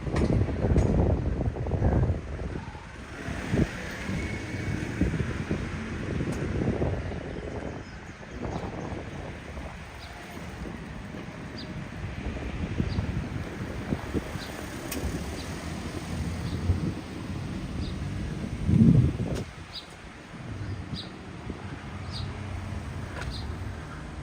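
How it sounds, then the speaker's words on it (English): Steady wind rumbles and buffets the microphone outdoors on a morning walk in Tokyo, a continuous low roar with gusts rising and falling. "It's a bit windy today."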